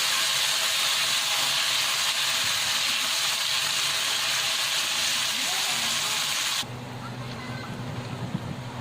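Spice paste for cilok sautéed in a pan over low to medium heat, producing a steady loud hiss and sizzle that drops to a quieter sizzle with faint background clatter near the end.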